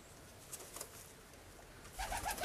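Pigeons, rollers and homers in a coop, give soft repeated coos against a quiet background, with a few brief clustered calls near the end.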